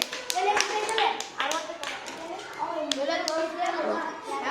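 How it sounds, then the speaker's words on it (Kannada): Children in a classroom clap for a classmate, a quick burst of sharp claps under an adult voice speaking over them. "ಇವಂಗು ಚಪ್ಪಾಳೆ ಹೊಡ್ರಿಪ್ಪ ಎಲ್ಲಾರು ಹೊಡೀರಿ"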